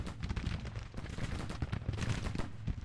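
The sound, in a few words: 12-pound howitzers firing, Grand Tactician video game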